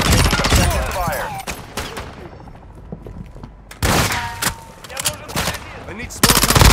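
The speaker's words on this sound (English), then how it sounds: "You are taking effective fire." Call of Duty Modern Warfare Warzone DMZ gameplay gunfire: loud bursts of automatic fire and scattered shots with booms, in two heavy volleys separated by a quieter stretch, mixed with game voice radio chatter.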